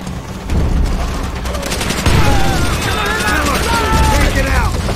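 Gunfire from an enemy machine gun nest above a gate in Call of Duty: World at War, dense bursts of shots under battle noise, with chirping tones and a voice briefly heard.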